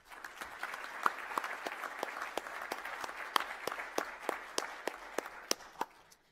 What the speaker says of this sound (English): Let's give another round of applause to all of those who helped make today possible.